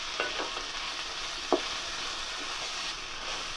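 Sweet corn and chopped capsicum are stirred in a hot pan, giving a steady soft frying hiss with a few brief scraping stirs near the start and middle, close and unaccompanied by talk.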